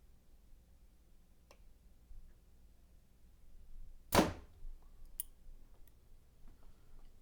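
A Gold Tip Triple X arrow, a stiff shaft, is shot through paper, making a single sharp crack near the middle of the quiet stretch, followed by a few faint ticks.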